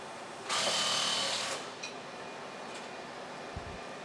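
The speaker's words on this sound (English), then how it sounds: "Oh, it dries, that's a helmet dryer." Electric helmet dryer in a racing garage at a Formula E practice session, starting up with a steady whirring hum for about a second, then cutting off, followed by a few light clicks and a low thump.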